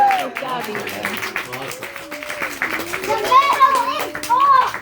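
Young children clapping and chattering together in a lively group, scattered claps mixed with excited kid voices and adult talk close by.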